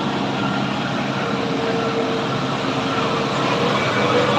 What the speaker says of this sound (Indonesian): Ada rombongan bus pariwisata melintas pagi ini